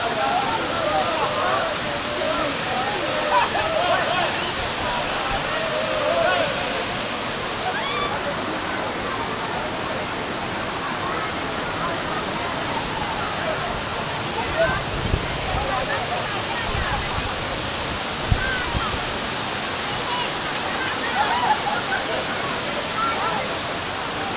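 Constant roaring rush of falling water at Areekal waterfall fills the whole stretch, loud and steady, with faint voices now and then beneath the roar.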